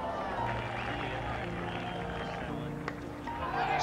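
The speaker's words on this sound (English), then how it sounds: "quite a few of Gordon Greenidge's colleagues have come out to give the applause when he gets another single" A cricket crowd at Lord's applauds Gordon Greenidge, with a steady wash of distant clapping and murmur and no clear peaks.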